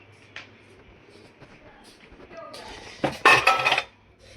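Pots and dishes clink and clatter as they are washed at home. Quiet rustling builds to a short, loud burst of clanking near the end.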